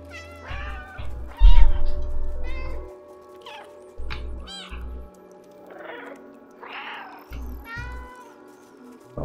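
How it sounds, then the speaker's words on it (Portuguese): Cat meows from the video game Stray, several loud, drawn-out calls in short bursts, with softer meows and game sounds between them and no talking. "o miado chama os outros gatos"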